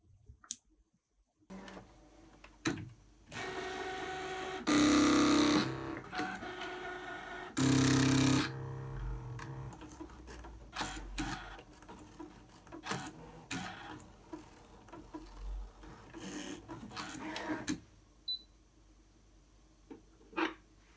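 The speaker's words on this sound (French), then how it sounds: "Et vous n'avez plus qu'à lancer la machine, donc en appuyant sur le bouton vert ici, marche." A Brother ScanNCut DX cutting machine working through thick material up to 3 mm, a close mix of mechanical clicks, ticks and whirs with two short, louder motor bursts, heard alone without talk.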